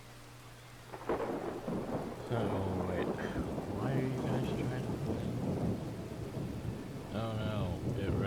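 Thunderstorm with steady rain in Thronebreaker: The Witcher Tales, a continuous wash of rainfall and rumbling thunder running throughout, with people talking over it.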